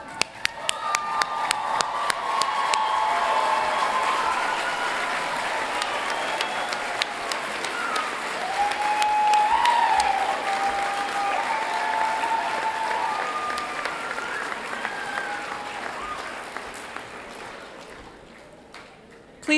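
Commencement crowd at a college graduation claps steadily and cheers for about twenty seconds, a dense, sustained wash of applause with scattered whoops rising midway before tapering off.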